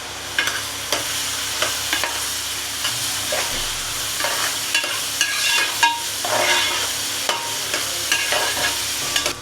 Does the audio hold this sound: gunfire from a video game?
no